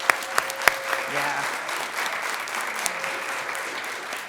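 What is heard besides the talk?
audience applause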